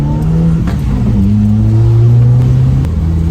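A car engine revs steadily and loudly up close, a sustained droning roar with rising tone and occasional sharp exhaust pops.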